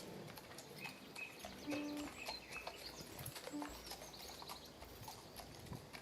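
Birds on a farm in the morning, chirps and a few soft low calls over a steady clopping of hooves and rustling background.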